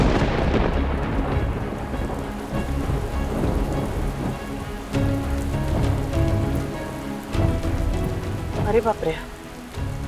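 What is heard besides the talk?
thunderstorm with heavy rain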